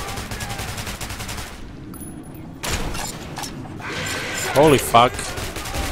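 Bursts of gunfire crackle through a firefight in the video game Metro 2033 Redux, with rapid volleys and a louder blast near the end, while a player exclaims over the shooting.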